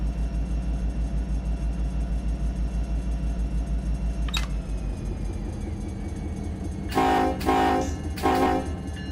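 SD70ACe diesel locomotives in the Run 8 train simulator, with a steady low engine rumble throughout and a short, loud horn toot sounding in three bursts near the end.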